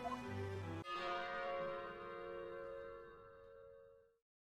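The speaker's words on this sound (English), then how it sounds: "After the bell sounded." A single struck bell from the Professor Layton vs Phoenix Wright video game rings out loud over a brief musical phrase, then its bright metallic tone hangs and slowly decays for about three seconds before cutting off.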